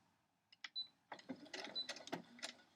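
Domestic sewing machine running slowly through a scant quarter-inch seam on a quilt star block, giving quiet, uneven mechanical clicks and short whirring bursts close by.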